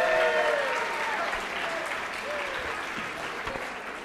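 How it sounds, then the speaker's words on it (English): Applause from the audience at a high school fall sports awards program, steady moderate clapping throughout with a faint voice briefly heard underneath. "Give him a round of applause."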